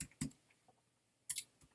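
Sparse keystrokes on a computer keyboard: a few quiet, separate clicks with gaps between them, close and soft.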